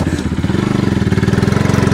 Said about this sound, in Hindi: सौरभ इधर चला रहा है बाइक को।